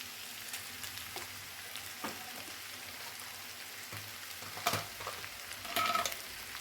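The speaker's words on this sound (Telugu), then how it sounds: "కొంచెం అల్లం వెల్లుల్లి పేస్ట్ వేసుకుందాం" Ginger garlic paste frying in a pan for mutton trotter soup, a faint low sizzle with a few soft stirring clinks that grow a little louder near the end, heard alone.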